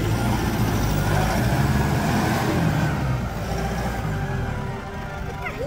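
A Toyota 4x4 truck reversing with rear-wheel traction engaged, its engine droning loud and close throughout, dropping slightly in level toward the end, with no talk over it.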